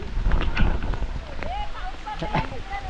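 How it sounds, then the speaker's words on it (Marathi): Steady first rain of the season in a Konkan village patters on surfaces with broadband splashing noise, while people talk and shout excitedly nearby over the downpour. "पाऊस आला"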